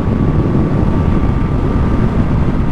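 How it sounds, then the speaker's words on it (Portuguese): A brand-new combustion engine runs steadily, its exhaust note blending with intake noise drawn in just below, a dense continuous roar with a faint whine, close and loud throughout without any talk. "além do barulho do motor lá no escapamento, tem o barulho da admissão aqui logo embaixo."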